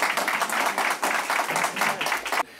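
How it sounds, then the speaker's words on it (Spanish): Audience applause at a Spanish-language book presentation, a steady burst of clapping from a seated crowd lasting about two and a half seconds before cutting off abruptly. "yo lo que voy a hacer es pedir un aplauso previo"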